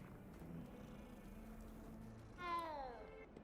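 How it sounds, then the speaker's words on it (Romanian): A cat in a video game gives a short rising meow near the end, over a faint low background hum, while being petted. "Poți să mângâi pisica."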